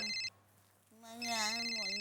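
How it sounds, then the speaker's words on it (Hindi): A phone ringtone chimes in short electronic tones, pauses, then returns louder while a voice talks over it in an indoor TV-show scene. "ओ मेरा फोन"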